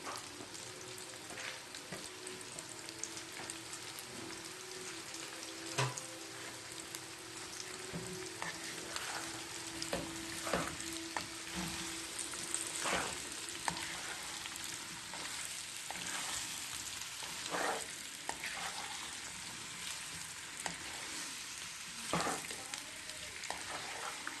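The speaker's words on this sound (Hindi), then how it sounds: "तकरीबन 10 मिनट हम फ्राई करेंगे, 5 मिनट हम ऐसे करेंगे" Mixed vegetables fry steadily in a pan for a vegetable pickle, giving a continuous crackling sizzle with occasional louder pops and stirring scrapes, close and without speech.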